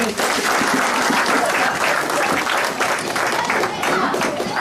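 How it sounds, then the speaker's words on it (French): An audience applauds at a hospital centre inauguration, with sustained, dense clapping from a sizeable crowd filling the whole stretch, and a few voices mixed in beneath it. "Nous pouvons acclamer."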